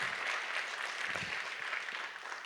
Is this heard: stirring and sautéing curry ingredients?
no